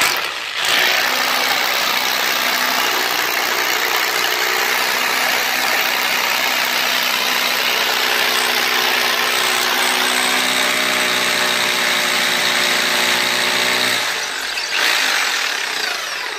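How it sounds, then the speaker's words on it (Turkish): A DeWalt rotary hammer drill boring a hole while mounting a curtain rod, a loud, continuous motor whine and hammering rattle running close and steady for about fourteen seconds before stopping, then briefly resuming. "Şuradan bir delik atıp vidalayalım."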